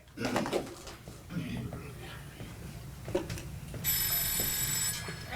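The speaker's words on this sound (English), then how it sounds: "You better go answer that phone." A telephone bell rings indoors during a stage play, a bright sustained trill that starts partway through and runs to the end, following quiet talk and soft sounds earlier.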